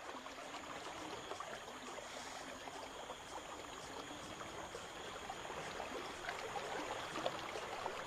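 Steady rushing water from jungle waterfalls fills the scene, a continuous broadband roar with faint trickling detail, moderately distant and unbroken, with no voices.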